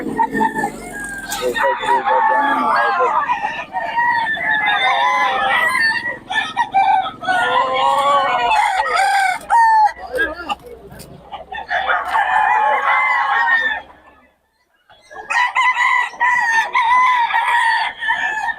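Roosters crow loudly and repeatedly, with clucking fowl, at a gamefowl market in Bocaue, Philippines. The crowing overlaps almost continuously and drops out only briefly near the end.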